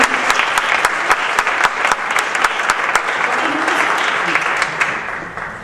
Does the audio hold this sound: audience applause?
yes